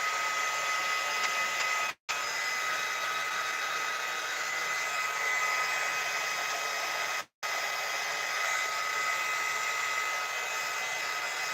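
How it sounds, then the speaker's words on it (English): A heat gun drying freshly stamped ink on a craft project blows with a steady, loud whooshing roar that runs nearly the whole time, cut off by two brief silent breaks. "Drying it with your heat gun"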